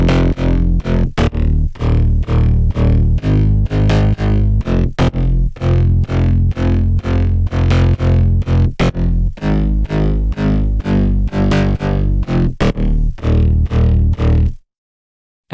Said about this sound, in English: And here's how the bass sounds all together.